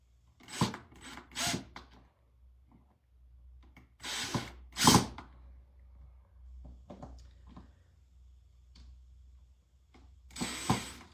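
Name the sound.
driving screws into a wooden garden sign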